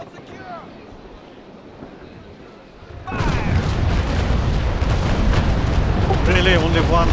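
Cannon fire from first- and third-rate sailing warships in the naval battle game Naval Action: a quiet stretch with a voice, then a loud barrage erupts and roars on steadily, with talk heard over it.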